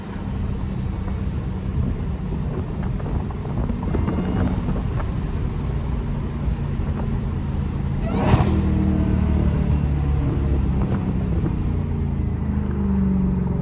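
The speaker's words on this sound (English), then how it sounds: "We're not even all the way on the gas and that be moving." Dodge Challenger SRT Hellcat driven through city traffic, recorded from inside: a continuous low engine drone under wind and road noise that swells slightly partway through as the car pulls harder.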